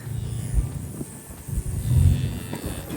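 Cattle following a farm truck low and moo in deep, rumbling calls, two or three drawn-out lows close by over faint engine and movement noise.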